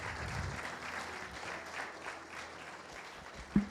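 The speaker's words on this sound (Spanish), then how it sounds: "Dele palmas a Cristo, amén." A church congregation claps at a pastor's sermon, soft diffuse applause fading through the clip with a brief louder knock near the end.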